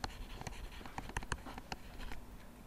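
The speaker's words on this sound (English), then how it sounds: "first we draw the Bohr diagram" A pen or marker draws a Bohr diagram in quick, irregular scratching and tapping strokes, faint and close, with no voice.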